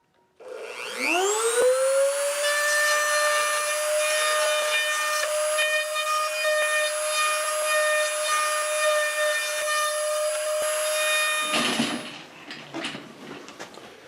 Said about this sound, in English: I discovered I had pretty good control with the Dremel on the router base, and it's much quicker.